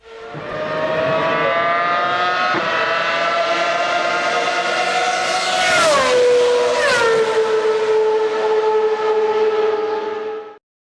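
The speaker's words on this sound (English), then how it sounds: "Have you ever heard a race car drive past?" A race car passes close by, its loud harmonic engine whine holding steady and then dropping sharply in pitch as it goes past, a clear Doppler shift, before fading slightly as it moves away.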